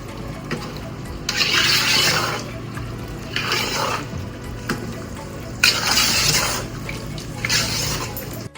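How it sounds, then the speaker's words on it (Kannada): Water is poured into a pot of rice for Gowda-style mutton biryani, coming in about four splashing, rushing bursts separated by quieter pauses, close and moderately loud. "ಸೊ ನೀರು ಹಾಕಿದ್ದೀನಿ"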